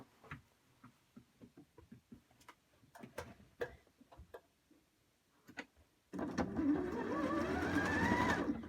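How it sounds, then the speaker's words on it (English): A sewing machine starts up and runs in a steady, fast whirring stitch after a few quiet clicks and taps, loud and close. "I'm just going to take this to the sewing machine off camera"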